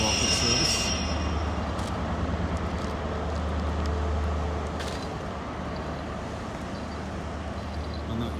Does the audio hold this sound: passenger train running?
yes